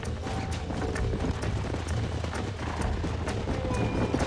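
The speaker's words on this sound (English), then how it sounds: "There's the horses!" Horses gallop in Red Dead Redemption with rapid, drumming hoofbeats over a rumbling, busy background, fairly close and continuous, with faint whinny-like cries mixed in.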